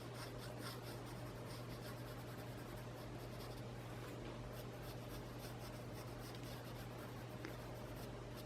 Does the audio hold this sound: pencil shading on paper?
yes